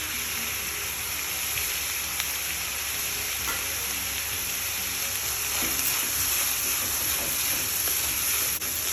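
Cinnamon, clove and cardamom fry with ginger and garlic in a pan, making a constant hissing sizzle nearby with occasional faint stirring taps.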